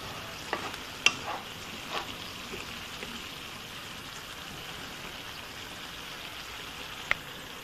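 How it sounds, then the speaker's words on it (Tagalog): Bagoong shrimp paste sautéing in oil, a soft steady sizzle with a few sharp spatula taps near the start and one near the end, no talk. "medyo igigisa natin yung bagoong sa mantika"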